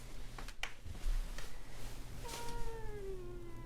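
A cat lets out a single drawn-out meow midway, faint and slightly distant, against a quiet indoor background with a few soft knocks before it.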